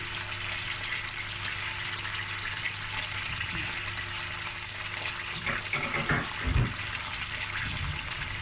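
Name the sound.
pouring water into cooking pot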